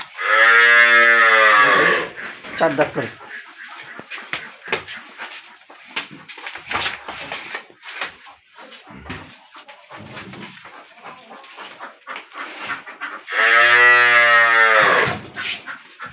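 Two long, loud moos from young Friesian or Sahiwal-Sindhi dairy cows, one at the start and one near the end, with a person talking in between.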